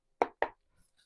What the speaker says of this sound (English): That was a very weak shuffle.